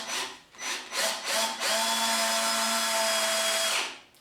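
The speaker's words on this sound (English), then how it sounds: "I am now going to drive a single screw into this approximately there." A drill drives a Turbo Gold XT exterior screw into a wooden garden gate board. A few short stuttering bursts lead into a steady, high whirring drive that stops cleanly, close and clear with no talk.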